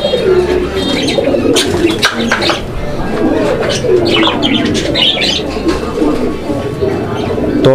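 Pigeons at a pigeon market coo in low, throaty rolling calls, overlapping close by with occasional chirps, while people talk nearby.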